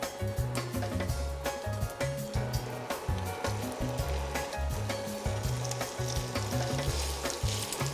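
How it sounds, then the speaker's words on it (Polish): Steady, loud sizzling of cod fillets frying in a hot pan, a continuous crackling hiss with no talking. "Patelnia gorąca, nakładam kawałki dorsza."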